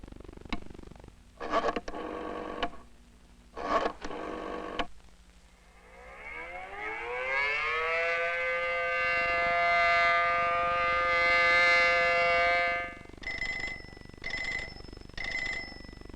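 A civil defense attack warning siren, from a 1961 school preparedness film, rises in a long wailing sweep and holds a loud sustained tone. Bursts of bell ringing and sharp tones come before and after it, and no one speaks.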